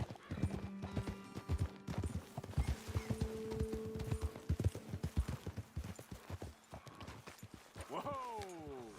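Horses in Red Dead Redemption 2 clop along a trail with steady hoofbeats under game speech, then a horse gives a loud, sliding whinny near the end.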